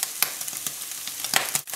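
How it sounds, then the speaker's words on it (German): Red Thai curry paste sizzles and fries in a pan with vegetables, a steady close frying hiss broken by a few sharper crackles and stirring scrapes, with no talking. "Als nächstes kommt der rote Thai Curry, weil den muss man mit anbraten, unbedingt."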